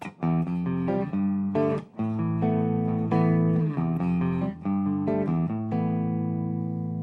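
A guitar rings out an open 2 chord built from fifths and fourths, several strums and plucked notes sounding close and clear, each left to sustain and decay before the next.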